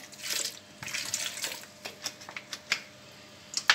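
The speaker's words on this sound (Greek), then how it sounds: "Θα βάλω πολύ λίγο νερό." A small amount of water is poured over sultanina grapes in a bowl while making a Greek spoon sweet with lemon juice, with soft splashing pours and a few light knocks, close and fairly quiet.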